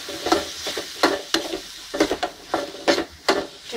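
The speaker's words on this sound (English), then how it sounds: "And now we will add the boiled red beans into it or the rajma. We will mix it well" Boiled red beans (rajma) being mixed into a sizzling sandwich stuffing in a pan, with steady, repeated scraping and tossing strokes from a spoon over a soft sizzle, close and continuous.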